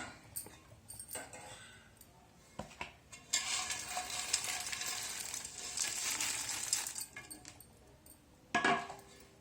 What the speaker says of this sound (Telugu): ఇప్పుడు కాకరకాయ ముక్కలు వేసుకోవాలి.